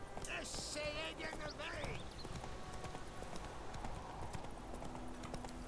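Roach, the horse from The Witcher 3, gallops with a fast, steady clip-clop of hooves close by, while people talk over the rhythm and other game sounds mix in early on.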